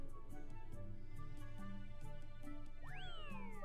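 A cat meows in the retro RPG Maker game A Bird Story, a short synthesized call near the end that rises and falls over steady looping background music.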